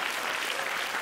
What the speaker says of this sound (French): Gardez vos applaudissements pour le spectacle que vous verrez un jour ailleurs.